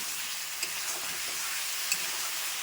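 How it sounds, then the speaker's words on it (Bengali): Meat fries in a pan for a home-cooked lunch, a constant bright sizzle close by with a few faint stirring clinks, no voices. "আমি কিন্তু মাংসটা একটু ভালো করে একটু ভাজা ভাজা করে নেব"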